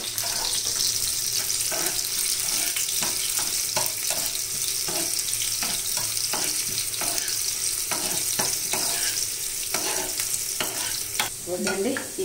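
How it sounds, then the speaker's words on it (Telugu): Onions and cumin fry in a pan for a sweet pumpkin curry, a loud steady sizzle running throughout while a utensil scrapes and stirs in repeated strokes close by, with no speech. "చూడండి, ఇవి ఉల్లిపాయ ముక్కలు వేగినాయి కదండి"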